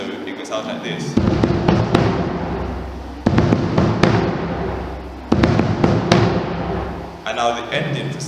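Marching bass drum line playing a beat with three accents, a series of deep booming hits with stronger accented strikes standing out in a steady pattern, loud and close.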